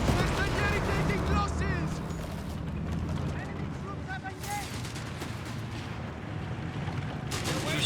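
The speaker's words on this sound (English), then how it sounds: "Crusader swinging in there with its 2-pounder gun" A Crusader tank fires its 2-pounder gun in Company of Heroes 3, with gunfire and artillery-like booms crowding a dense, continuous battle din while a commentator talks over it.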